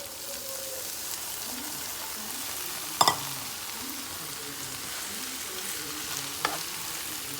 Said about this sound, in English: I've turned the heat to low, and now I'm going to add the dal.